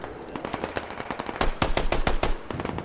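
Rapid automatic gunfire from a video game shootout in a favela, loud, dense bursts that intensify in the middle, nearly continuous cracks with no talking.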